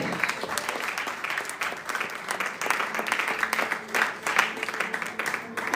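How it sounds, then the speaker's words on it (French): A church congregation applauding loudly in praise, sustained rhythmic clapping with scattered cheers and voices mixed in throughout. "je voudrais que tu acclames très très fort le Seigneur"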